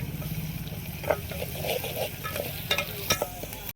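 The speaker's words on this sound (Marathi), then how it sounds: "आता लसण टाकून घेतला. लसण पण मस्त परतून घेऊ." Chopped garlic sautés with browned onions in a pan for mutton curry, a steady close sizzle broken by repeated spatula scrapes and stirring clatter.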